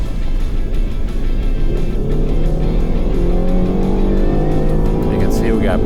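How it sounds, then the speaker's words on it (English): A 2019 Ford Flex accelerates, its engine note rising steadily in pitch as it pulls ahead, with a continuous road rumble beneath and someone talking over it. "show you the acceleration and how it handles the curves"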